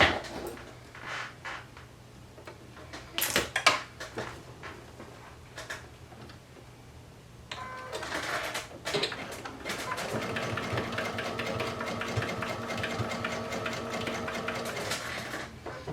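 A sewing machine runs a zigzag stitch to sew down loops on a swim top, starting after a stretch of quieter handling noise and then holding a steady, close whirring run to the end.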